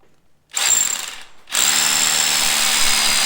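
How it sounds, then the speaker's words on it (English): A loud SDS hammer drill bursts on for about a second, pauses briefly, then runs again steadily, a harsh high-pitched grinding whine close by. "So the SDS drill is quite loud, so ear protection is necessary"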